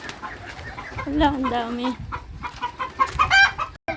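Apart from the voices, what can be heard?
birds and ducks on a farm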